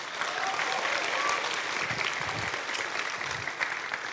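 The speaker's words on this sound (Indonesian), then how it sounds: "Tepuk tangan dulu dong buat guru PAUD nih" Audience applause for a preschool teacher at a student discussion event in Bandung, a steady, moderately quiet patter of many hands clapping with brief voices underneath.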